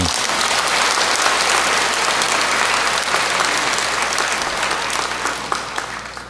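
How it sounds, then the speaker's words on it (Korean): A church congregation at a rosary prayer evening in Jeju claps together, sustained and fairly loud, a dense wash of hands that holds steady and tapers slightly near the end. "박수 한번 쳐주세요"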